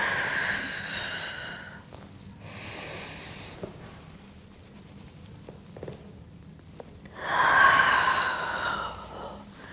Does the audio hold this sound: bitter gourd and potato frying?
no